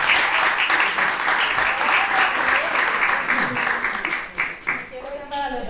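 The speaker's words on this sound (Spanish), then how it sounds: "Estoy escuchando aplausos del otro lado" Applause from an audience at an intercultural education panel, dense rapid clapping that stays loud for several seconds before thinning out, with a voice starting to speak near the end.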